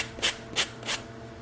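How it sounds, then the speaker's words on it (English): A sanding sponge is rubbed against scale liner material in three short, close, crisp scraping strokes, evenly spaced, with quiet pauses between. "So for that, I just take a sanding sponge"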